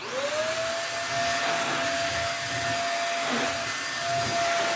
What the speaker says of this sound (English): I guess we can now vacuum with it and see how bad it is